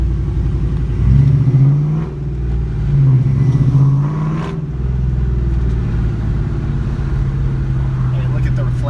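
A cammed 2004 Mustang GT New Edge pulls away under acceleration, its deep, lumpy engine rumble rising and swelling close by for several seconds before settling into a steady drone.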